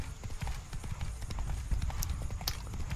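Roach, a horse in Witcher 3, gallops at night with a rapid, uneven clip-clop of hooves under a steady game ambience, close and continuous throughout.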